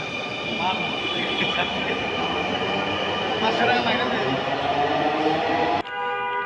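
Steady rumble and hum of a Dhaka metro rail train in motion fills the whole clip, with a sharp change in tone near the end as the car shifts.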